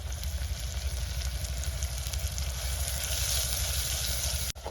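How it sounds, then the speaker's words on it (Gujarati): Onions sizzle steadily in a pan with salt, coriander-cumin powder and turmeric, a close, even frying hiss that holds throughout before a brief dip near the end. "હવે જો આપણે ડુંગળી મસ્ત તળાઈ ગઈ છે લાલ થઈ ગઈ છે"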